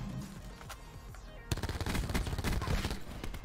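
Rapid automatic fire from a VKM rifle in Black Ops 4: a muffled stretch, then loud, dense bursts of shots from about halfway on, with faint voices underneath.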